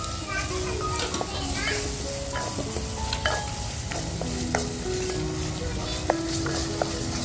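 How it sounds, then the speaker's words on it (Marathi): Masala fries on a wood-fired stove for chicken vade, giving a steady sizzle with stirring clatter, while a voice speaks over it and children are heard nearby. "तर बघा आपला मसाला असा छान फ्राय झालेला आहे"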